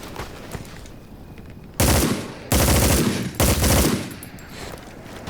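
Machine gun fire in Hell Let Loose: Vietnam, set in the Vietnam War, comes as three long, loud sustained bursts separated by short pauses, with quieter scattered shots around them.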